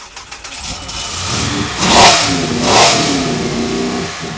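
A powerful high-horsepower MasterCraft boat engine rumbles and revs up twice in quick surges, loud and close, settling back to a throaty idle between bursts.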